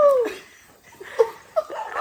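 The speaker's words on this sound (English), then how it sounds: "A dog?" A dog yips and whimpers excitedly at a homecoming after a Chicago flight, with a few short high cries and squeaks, close and fairly loud, separated by brief pauses.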